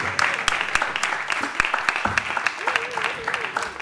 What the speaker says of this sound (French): Merci d'accueillir par vos chaleureux applaudissements Marion Lambert.